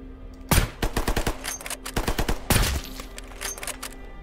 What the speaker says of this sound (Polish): Skąd on strzela?